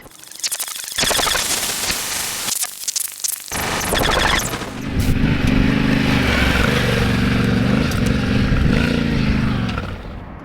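An adventure motorcycle ridden off-road, its engine revving loud and rough close by, then a sustained throaty roar with gear changes and gravelly spray, alone with no speech.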